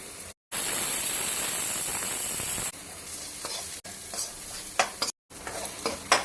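Chopped onion with ginger-garlic paste sautés in a pan for Mumbai-style pav bhaji, a loud hissing sizzle in bursts broken by short silences, then quieter crackling with scraping stirs near the end; no voices.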